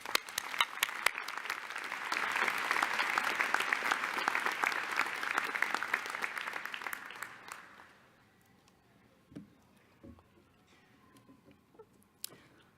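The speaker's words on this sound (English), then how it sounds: "Please join me in applauding these individuals." Applause for donors at a Northwestern Pritzker School of Law convocation rises from scattered claps into a full, steady wave from the audience, then fades after about eight seconds, leaving a quiet hall with a few faint bumps.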